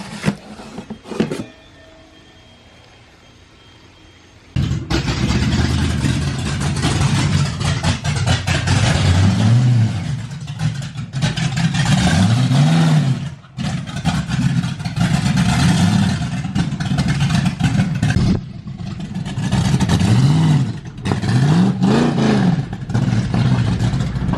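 A Ford Mustang with a swapped-in 302 V8 starts up and runs loud and rough, with several throaty revs rising and falling over a lumpy idle and a brief quiet stretch near the start.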